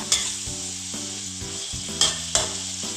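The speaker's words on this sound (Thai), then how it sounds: "ผัดหมูของเราไปจนให้มันตามที่เราพอใจเลยค่ะ" Pork stir-frying with garlic and pepper in a pan: a steady, close sizzle of hot oil, broken by several sharp clacks and scrapes of a utensil stirring the meat, with no one talking.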